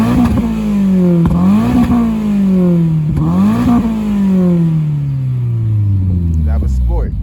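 Toyota GR86 with a GR cat-back dual exhaust in sport mode, revving loudly in repeated rising and falling sweeps, then settling into a long falling tone as the revs drop, with a clattering crackle near the end.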